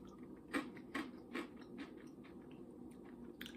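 Dry generic store-brand cinnamon toast crunch cereal being chewed close up, with several crisp, rhythmic crunching bites spaced about half a second apart over a low background hum.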